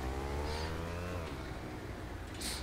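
A car in GTA 5 drives off, its engine revving and then fading as it moves away, with no talk over it.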